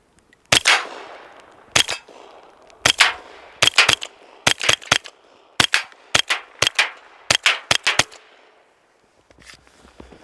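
Rifle fire at steel targets on a range, roughly fifteen sharp, loud shots in an uneven rhythm, some singly and some in quick pairs, each with a short ringing tail, with no talking.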